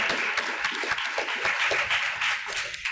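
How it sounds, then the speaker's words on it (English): Audience applause at a school board of trustees meeting fills the room steadily and loudly, a dense wash of many hands clapping at once with no pauses. "Big applause for that."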